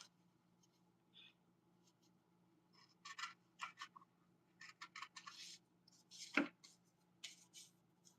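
Quiet, crisp snipping of scissors through paper, several short cuts in quick bursts, with one sharper click among them and no talking.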